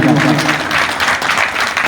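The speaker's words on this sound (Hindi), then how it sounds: "जोरदार तालियों से स्वागत किया जाए भाइयों का।" An audience at a library opening ceremony in Kosi Kalan claps in welcome, a loud, close, continuous burst of applause with voices mixed in.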